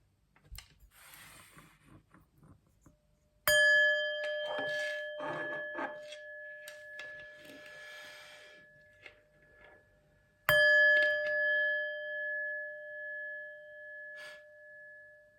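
Two struck chime tones ring out, each hit a bright clear bell-like note that sustains and slowly fades, separated by several seconds, with soft rustling and handling noises before and between them.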